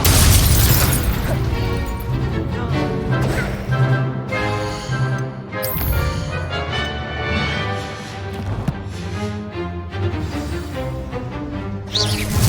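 Incendio fire-spell effects in a Harry Potter video game battle: repeated bursts, whooshes and booming impacts pile up densely across the whole stretch at high volume, with no voice heard.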